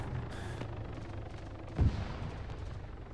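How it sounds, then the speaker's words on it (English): A grenade goes off in the military shooter game Arma 3: a single muffled, distant-sounding blast lands midway through, standing briefly above a low steady background with no voices. "that grenade just went off there"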